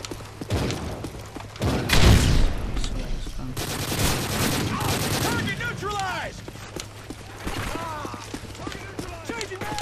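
Gunfire in Call of Duty Modern Warfare 3, with bursts of rapid shots and heavy thumps through the clip, loud and close over game ambience, with a voice speaking in places.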